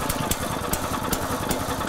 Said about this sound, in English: and pull start the engine.